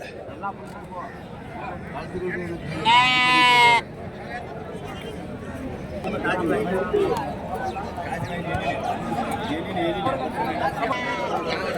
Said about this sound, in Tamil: அதுவே குட்டி ஆடு